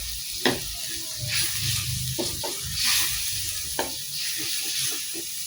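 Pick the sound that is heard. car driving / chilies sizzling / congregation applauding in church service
chilies sizzling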